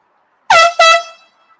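Two short, loud blasts of an air horn from a passing truck, sounded close together and then fading into silence.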